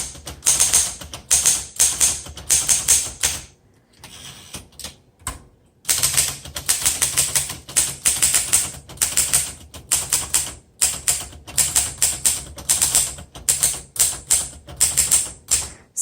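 Typing on a 1956 Underwood Leader portable typewriter: close, loud clacking keystrokes in quick irregular bursts, broken by short pauses and one longer gap, with no voices.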